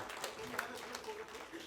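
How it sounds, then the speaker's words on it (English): An audience at a business event claps in a room, giving a soft, dense patter of hands that stays faint and steady throughout. "a round of applause to the man who stays behind and does all the hard work"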